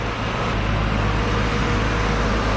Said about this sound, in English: you can hear the engine is purring like it should be